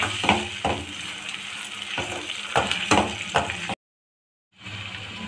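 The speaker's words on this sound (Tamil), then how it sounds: "வெங்காய பேஸ்ட்டு கொஞ்சம் வதங்கட்டும்" Onion paste sautéing in a pan while cooking a soya chunk gravy, a steady sizzle broken by repeated stirring scrapes and clinks, then a brief silence before the frying resumes.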